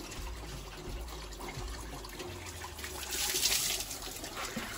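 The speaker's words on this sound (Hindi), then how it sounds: "अभी पानी जो है थोड़ा गुनगुना भी आ रहा है हमारे वहाँ" Lukewarm water runs steadily from a tap for bathing a Rottweiler, a continuous splashing trickle that swells louder toward the end, with no voices over it.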